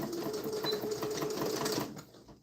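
A sewing machine runs steadily close by for a couple of seconds, its continuous motor hum and rapid stitching even and unbroken before it stops near the end.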